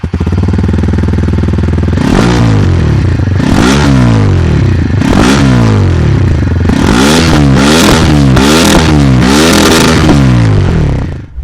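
A TVS Apache RTR 160 4V motorcycle's stock exhaust blips through a series of sharp, loud throttle revs over a steady idle, with bursts rising and falling in quick succession, close to the bike.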